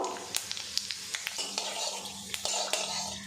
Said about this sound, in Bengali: সামান্য পরিমাণে গোটা জিরে দারচিনি আর এলাচ আমি ফোড়নে দিয়ে দেব